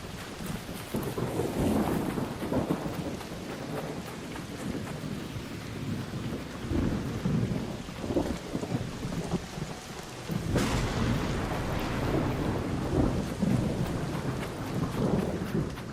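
Thunderstorm in Arc Raiders with constant heavy rain and repeated rolling thunder, including one sharp close crack partway through followed by a long rumble, loud and enveloping, without talk.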